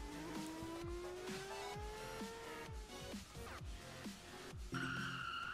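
A car in a Roblox game drives with repeated tire squeals and skids, pitch sweeping as it slides through turns, loud and close with engine drone underneath and no talk.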